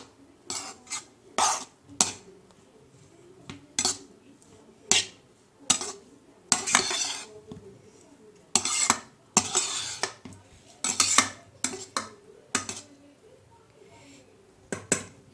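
Metal spoon scraping and clanking against a pan while egg rice is stirred on a low flame, a steady run of sharp, close scrapes and knocks in irregular bursts with no talk.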